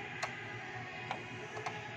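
An Epson printer's pump draws the ink out of its four cartridges one by one during a power ink flush, giving a few faint, sharp mechanical ticks and clicks over a steady low whir.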